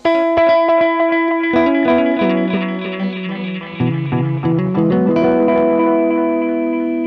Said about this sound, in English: you can hear the delay is pretty clean